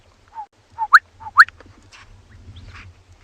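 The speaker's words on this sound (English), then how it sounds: "There's a very special bird calling in the distance." A distant bird calls from dense thickets at sunrise on safari, a few faint rising whistled notes at the start, then quieter chatter over low background rumble.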